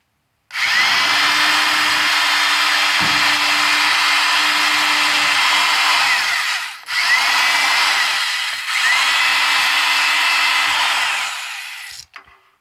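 Power drill bores into the door panel of a 1979 Chevrolet C10 truck using an old, wrong-size bit, running loud and steady for about six seconds, pausing briefly, then running again in two more long bursts.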